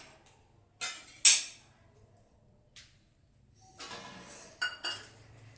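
Dry-roasted dal and poha tipped from a pan onto a plate, giving a few quiet, scattered clinks and scrapes of metal and grains with short gaps of near silence between them.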